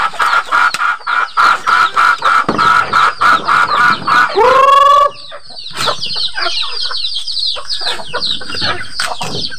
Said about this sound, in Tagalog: magpapakain tayo ng native chicken